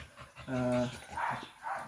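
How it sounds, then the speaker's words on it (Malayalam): An American Bully dog at a boarding kennel gives a short whimpering whine up close, followed by softer murmurs, with faint background sounds. "സോ ഈ ഡോഗ് ബ്രീഡാണ് അമേരിക്കൻ ബുള്ളി എന്നുള്ളത്."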